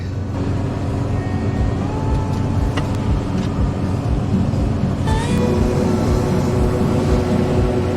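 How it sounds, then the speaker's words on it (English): Combine unloading harvested grain corn through its auger into a potato truck during a snowy harvest: a loud, constant heavy engine and machinery rumble with faint whining tones and a few clanks, no talk. "we're getting ready to unload the combine into the potato truck"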